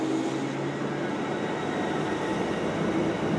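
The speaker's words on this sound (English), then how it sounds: "Heading off here is the Bakerloo Line train." A London Underground Bakerloo Line train departs South Kenton, giving a steady broadband rumble and hiss of wheels and motors that holds evenly throughout, moderately close.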